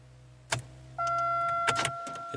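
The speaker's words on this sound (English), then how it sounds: "It's kind of a click and then it stops." A Pontiac Grand Am with a failing starter gives a sharp click, then a steady electrical whir or hum that runs briefly without the engine catching, heard close and fairly quiet.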